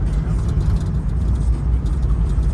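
Car under hard acceleration at full throttle, engine revving high before a late gear shift; a loud, steady, close roar with no clear break, recorded at a drag-racing prep session.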